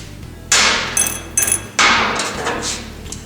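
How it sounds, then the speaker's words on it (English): Metal parts clink and knock while the cam cover comes off a Honda ATC200S engine during a valve adjustment: a few sharp, close raps and rattles spaced over a few seconds, with no talking. "Then we'll take our cam cover off."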